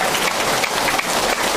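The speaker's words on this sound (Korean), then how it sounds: "박수 한번 주세요. 박수." Dense audience applause fills the hall at a Korean storytelling talk, a steady wash of many hands clapping close and loud, with no voices over it.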